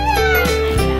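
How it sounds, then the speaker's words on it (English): A young dog gives high, squeaky yips and whimpers, close by and fairly loud, with overlapping tonal cries over about a second. "That's our new puppy."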